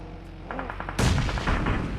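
Grenade blasts and gunfire ring out in a PUBG Mobile esports match, with a softer volley of shots followed by a sudden loud burst of dense gunfire that carries on to the end.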